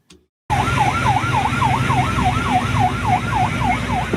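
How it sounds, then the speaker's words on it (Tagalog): A loud, wailing siren from a Chinese ship at sea, rising and falling in a fast, regular cycle over a low engine rumble, starting abruptly after a brief quiet moment. "maririnig ang malakas na pagpapatunog ng wangwang o sirena mula sa barko ng China."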